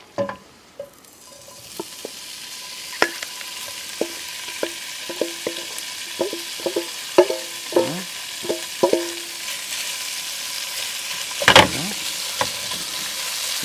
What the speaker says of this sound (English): we want to hear a little sizzle when that product hits that hot oil